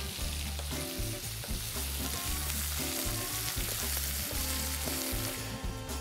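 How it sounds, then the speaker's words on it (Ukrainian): Eggs fry in a pan during outdoor cooking, a steady close sizzle and crackle of hot oil running throughout with no talking. "Що ж, залишається смажити яйця."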